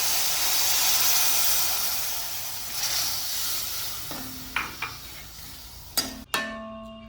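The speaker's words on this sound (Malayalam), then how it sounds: "ഈ പാല് നമുക്ക് ഇതിനകത്തേക്ക് ഒഴിച്ചു കൊടുക്കാം." Second-press coconut milk poured into a hot pan of egg curry sets off a loud, broad sizzle and hiss that slowly fades. A few sharp metallic clinks of a utensil on the pan follow near the end.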